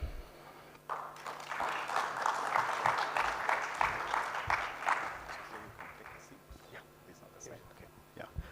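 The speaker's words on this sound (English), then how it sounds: "Another round of applause, please" Audience at a conference session on Earth observation for biodiversity conservation breaks into applause that swells for a few seconds, then fades to scattered claps and murmuring voices.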